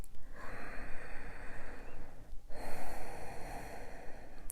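Deep breathing during a slow flow yoga class, with a long, loud, close inhale followed after a brief break by a forceful exhale, slightly nasal and breathy, with no words spoken.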